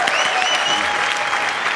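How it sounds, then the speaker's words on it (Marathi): A studio audience at a comedy show claps loudly and steadily in a dense, continuous wash of applause, with a faint musical tone running underneath. "टाळ्या."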